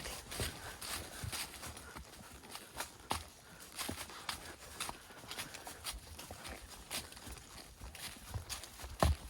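A horse named Homer walks along a rocky, muddy trail, hooves clopping in a steady uneven rhythm of close, moderately loud steps with occasional sharper knocks against stone.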